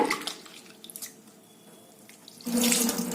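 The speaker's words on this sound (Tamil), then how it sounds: "பாசிப்பருப்பை நல்லா இந்த மாதிரி பிசைஞ்சு கழுவிடுங்க" Water from a tap splashes and runs into a sink while moong dal is washed, fading briefly to quiet trickles before gushing loudly again near the end.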